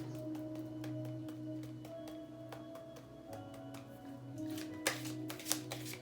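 Tarot cards are shuffled in quick, repeated riffling bursts, close up, growing louder and busier toward the end over a faint background hum.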